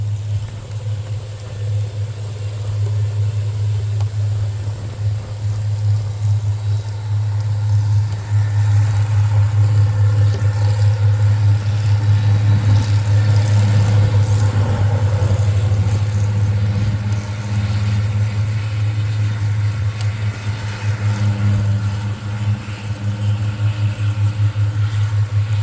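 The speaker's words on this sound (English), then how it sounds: "That's a tractor behind me." A tractor engine runs steadily on agricultural farmland, a loud low continuous drone with slight rises and falls in intensity, heard alone without talk.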